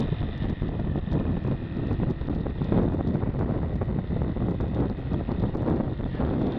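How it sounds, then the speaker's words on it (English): Constant wind rushing and buffeting against a microphone while riding a 2006 Yamaha XT 225 motorcycle on the highway, with a low engine rumble beneath, steady and loud with no talking. "A little bit windy."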